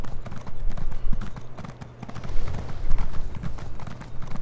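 Horse hooves clip-clop in Elder Scrolls Online, a rapid, steady run of close hoofbeats with a brief lull in the middle, heard on their own without talk.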